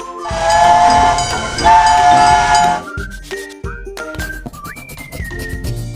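A steam train with a loud, sustained whistle blast that cuts off and repeats, followed by chuffing, clanking rail noise and shorter rising whistle tones, all close and with no talking.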